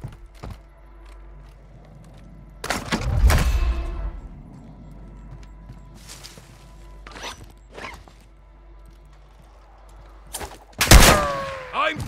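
Gunfire in a Call of Duty match: sharp, loud bursts of shots in separate clusters, one near the start and a heavier burst near the end, with quieter scattered clicks and movement sounds between.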